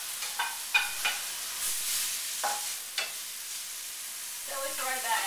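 A utensil scrapes and stirs chili powder and onion powder into protein sizzling in a pan, with scattered close scraping strokes over a steady soft fry.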